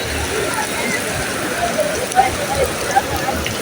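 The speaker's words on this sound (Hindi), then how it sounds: "बहुत तेज़ बारिश है" Dense, steady hiss of heavy rainfall pouring down nearby at the Prophet's Mosque in Medina, with a few louder splashes and drips scattered through it.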